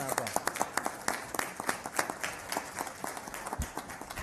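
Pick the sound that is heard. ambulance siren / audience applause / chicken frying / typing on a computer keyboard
audience applause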